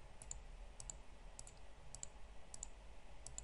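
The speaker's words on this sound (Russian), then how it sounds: "Вот я кликаю" Computer mouse clicks while playing a dress-up fashion game, six sharp, quiet, evenly spaced clicks over faint background hiss.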